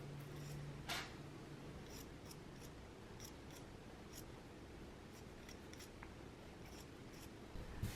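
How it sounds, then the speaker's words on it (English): Scissors trim the seam allowance on a sewing project. Quiet snips repeat at an irregular pace, close and soft, against a low background hum with no talking. "I'm trimming mine down to about 1/4 of an inch."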